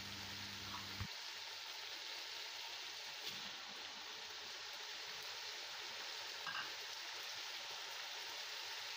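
Ginger and garlic cooking in a pan, water and two tomatoes added, giving a steady soft sizzling, bubbling hiss that stays even and moderately loud with a few faint clinks.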